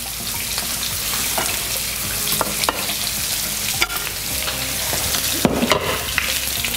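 Chopped ingredients for an Irish beef stew crackle and sizzle loudly in a hot pan, a continuous close frying hiss punctuated by intermittent pops and spatters, with no talk.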